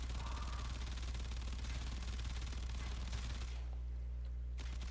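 Rapid automatic fire from the Tenora rifle in Warframe, aimed at heavy gunner enemies, pours out as a loud, dense, unbroken stream of shots that cuts off abruptly near the end, leaving only a low hum.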